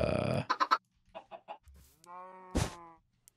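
A baby chicken in Minecraft clucks in short bursts: a quick run of clucks, a pause, a few softer ones, then a brief tonal squawk and a sharp, noisy burst, close and clear with no talking.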